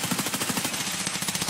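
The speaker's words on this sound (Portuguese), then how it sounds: "Só de supressão, é tiro de supressão isso." Rapid suppressive automatic gunfire in Escape from Tarkov, a dense, loud, evenly spaced burst of shots lasting throughout, heard alone without talk.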